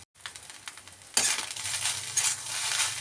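Egg fried rice seasoned with chilli powder is stirred in a pan over a high flame. A spatula scrapes and clinks against the metal over a steady, close sizzle that jumps louder after a sharp first stroke.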